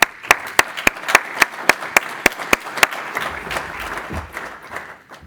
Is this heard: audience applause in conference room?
yes